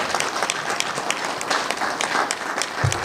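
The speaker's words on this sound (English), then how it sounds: "How about a round of applause," A crowd at a live podcast celebration claps in sustained, fairly close applause with scattered sharp individual claps, steady throughout and with no talking over it.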